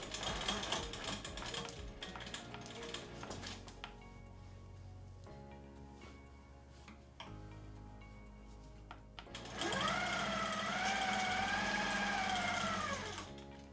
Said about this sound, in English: Now I'm gonna sew across the top.